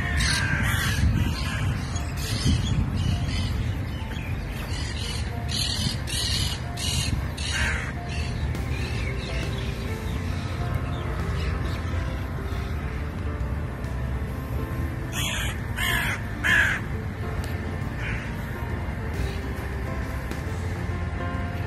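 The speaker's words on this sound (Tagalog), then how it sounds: "Uwak." Crows caw repeatedly in bursts in a park, some calls near and others farther off, over a steady low outdoor rumble.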